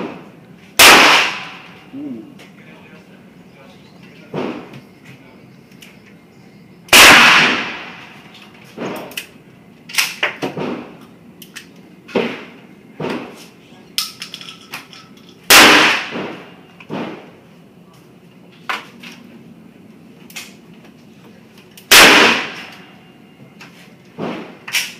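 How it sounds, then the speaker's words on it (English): A Smith & Wesson revolver fired with .44 Special PMC factory loads at a shooting range: four loud, sharp reports spaced several seconds apart, with lighter clanks and handling knocks in between. "So here's George shooting his Smith & Wesson."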